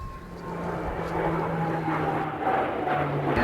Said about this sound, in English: Fairchild Dornier 328, Scott Airways.